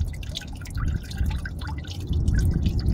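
Coolant dripping out of a drained car radiator on a Saturn Sky, a quick patter of close drips against a low background rumble.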